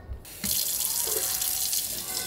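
A tap runs water into a child's watering can, a steady close splashing stream that begins abruptly after a brief pause.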